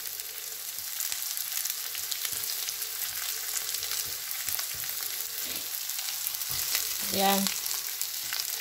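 Garlic frying in a pan gives a steady broadband sizzle through the whole stretch, with a brief clatter near the end. A single short spoken word breaks in once.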